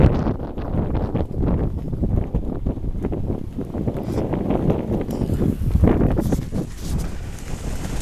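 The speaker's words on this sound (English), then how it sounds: "I'm covering the mic with my hand now because I don't know how bad the wind was blowing," Strong gusty wind buffets a microphone that is covered by a hand, giving a continuous muffled low roar that swells and eases in gusts, with no talking.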